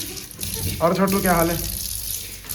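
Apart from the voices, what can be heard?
washing dishes under running tap water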